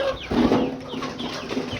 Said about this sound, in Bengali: এখানে আমার কিছু মুরগি আছে